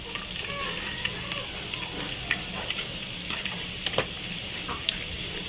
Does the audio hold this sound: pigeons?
no